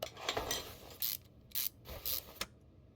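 Car axle being fitted in the Car Mechanic Simulator game, a series of short mechanical clicks and ratcheting bursts at close range, three or four distinct metallic clunks spaced about half a second apart over faint background hum.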